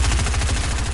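Rapid automatic gunfire in a video game rattles in a fast, steady stream of shots throughout one loud, close second.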